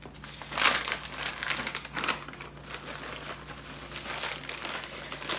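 Pecans being crushed inside a sealed plastic bag while preparing magic bars, giving dense crinkling and crunching with sharper cracks every second or so, close and fairly loud, with no talking.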